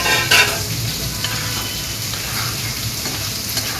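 Beef brain masala sizzles loudly and steadily in a pan as green chillies go in, with a brief sharper hiss and stirring scrape near the start, then an even frying crackle with no voices.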